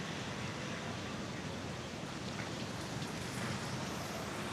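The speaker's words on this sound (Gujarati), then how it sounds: "વરસાદ બહુ ચાલુ છે." Heavy monsoon rain in Surat, India, pouring down in a continuous, even wash of hiss, soft and distant, with no voices.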